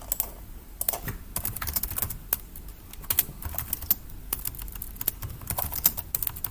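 Fast, uneven keystrokes on a computer keyboard, close and clear, in short bursts with brief pauses, no talk.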